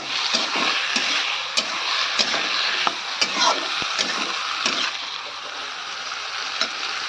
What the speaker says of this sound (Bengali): ঢাকনা দিয়ে হালকা করে কষিয়ে নেবো ভেন্ডির জন্য।